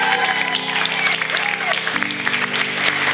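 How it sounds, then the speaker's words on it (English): Wedding guests applaud in a barn venue, a steady wash of clapping that fills the short stretch alongside tonal music or background sound. "let's have a round of applause"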